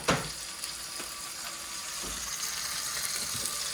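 Ground sirloin sizzles steadily in a hot pan, a constant crackling fry with a few soft stirring scrapes and no talking.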